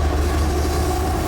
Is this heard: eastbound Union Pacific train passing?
yes